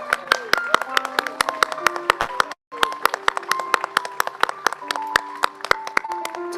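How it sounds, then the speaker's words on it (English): A congregation at First Parish claps for its volunteers, a dense, sustained round of hand claps from many people that fills the room, with one brief break before the applause resumes just as strongly. "How about a big round of applause for all the volunteers we have at First Parish?"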